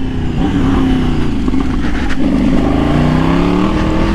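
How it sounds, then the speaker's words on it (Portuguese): A motorcycle being ridden on a road, its engine droning steadily loud and close with rising and falling revs and wind rush, running continuously without talk. "Toda vez que eu ando nessa moto eu admiro mais"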